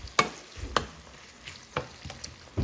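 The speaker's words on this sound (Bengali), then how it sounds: "এখানে পেঁয়াজ আর কাঁচামরিচ একটু ভেজে নিচ্ছি।" Onions and green chillies frying in a pan for a fenugreek-leaf, brinjal and potato dish, with several sharp stirring scrapes at irregular intervals over a quiet sizzle, no talking.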